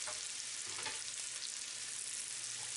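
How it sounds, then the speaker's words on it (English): Garlic, tomato and onion sautéing in a pan, a soft, even sizzle of hot oil with a faint stir or two, steady and fairly quiet, with no voices. "let these saute for at least a minute or so that they can get soft"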